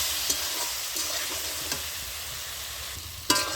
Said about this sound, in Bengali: মশলাটা যাতে না পুড়ে যায় তার জন্য আমি একটু জল দিয়ে দিচ্ছি